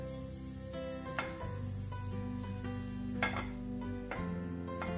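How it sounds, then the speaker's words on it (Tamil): Cumin seeds crackle and sizzle in hot oil in a stainless steel kadai, a steady close frying hiss with occasional clinks of utensils against the pan and no talk. "जीरा போட்டுக்கறேன்"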